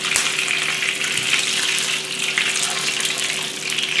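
Nems (spring rolls) frying in hot oil, a dense continuous crackling sizzle heard up close and loud, with a faint steady hum beneath and no talking.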